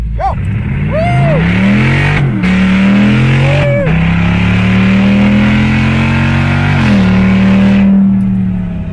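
A hot rod launches hard down a drag strip at a hot rod event, its engine roaring loud and close as it revs up through the gears with quick shift breaks, a steady harsh drone filling the whole stretch.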